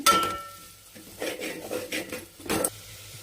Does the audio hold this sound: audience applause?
no